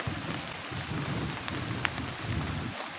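Heavy rain pounds on a camping tent during a thunderstorm with strong wind, a dense continuous patter close by with no talking.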